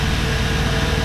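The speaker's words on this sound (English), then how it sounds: "So I thought it would be good to have a fan." A small 12-volt plug-in fan inside a truck cab blows with a steady, loud broadband whoosh, close by and with no talk.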